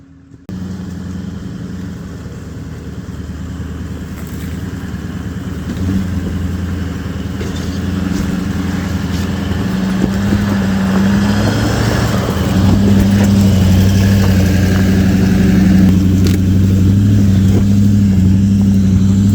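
Toyota Land Cruiser engine laboring up a steep offroad hill near Wellington Dam, a loud sustained drone that rises and strains steadily in pitch and volume, heard close with no talk.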